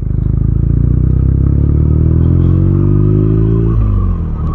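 A BMW R nineT motorcycle engine revs up, its harmonic tone climbing steadily for nearly four seconds before dropping off, loud and close with no voices.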